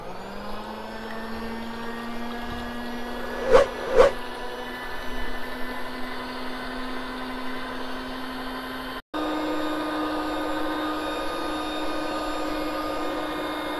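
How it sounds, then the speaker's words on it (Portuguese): An electric mixer beats egg whites for a condensed-milk rocambole, a steady motor whine with two brief louder knocks, cutting out for an instant and then running on. "primeiro passo, vamos estar batendo a nossa clara"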